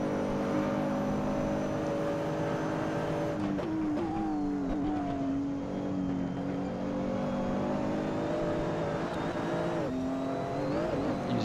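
A Nissan GT-R GT3 race car engine in a video game drones at high revs around Monza, its pitch dipping and climbing through gear changes, continuous and fairly close, with no talking.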